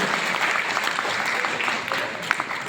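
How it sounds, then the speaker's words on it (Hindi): An audience at a business gathering in the Shahi Palace hall in Araria bursts into dense, loud applause that holds steady throughout, with faint voices mixed into the clapping. "जोरदार ताली के साथ"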